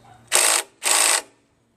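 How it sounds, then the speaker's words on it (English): Two quick bursts of ratchet clicking as 3/8 bolts are tightened on the bottom of a Craftsman 5.5 HP 26-inch OHV snow blower, each burst about a third of a second, close and crisp with no talk. "I'm going to first just tighten the bolts on the bottom."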